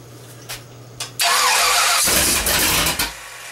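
A Chevrolet 350 V8 being broken in cranks with a few short starter bursts, then catches and roars to life, running loud and rough for about two seconds before dipping and surging unevenly.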